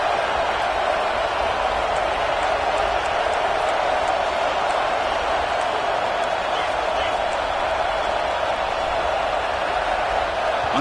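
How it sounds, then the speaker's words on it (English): Dense, steady roar of a football stadium crowd at Penn State vs Oklahoma, cheering loudly and continuously as the defense lines up for a red zone stand, with a commentator's voice over the noise. "And here comes the noise. This crowd is trying to inspire this defense to make a big red zone stop."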